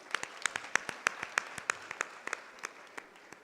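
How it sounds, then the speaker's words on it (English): Sparse, uneven handclaps from a small session audience, a few dozen distinct claps scattered over a few seconds and fading toward the end. "A round of applause"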